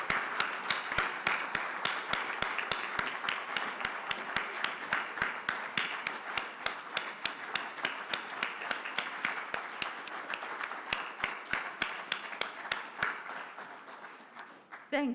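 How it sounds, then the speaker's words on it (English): An audience at the Africa Pension Supervisors Association event gives a long, warm round of applause, steady hall-wide clapping with sharp individual hand claps standing out throughout. "So if we could please give them a warm round of applause"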